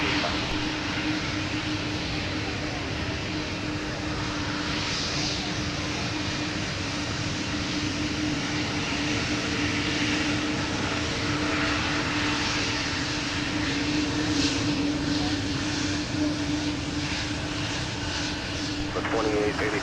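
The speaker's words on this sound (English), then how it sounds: "runway 17, clear for takeoff" An airplane takes off from runway 17 at Minneapolis–Saint Paul airport, a loud sustained engine roar with a steady drone throughout as air traffic control radio talk plays over it.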